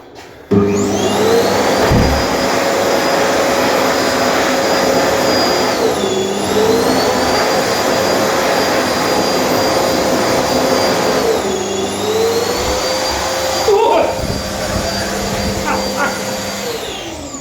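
Electric hand dryers in public toilets blow with a loud, steady roaring whoosh whose pitch sags and recovers a few times, close up and continuous with no talking.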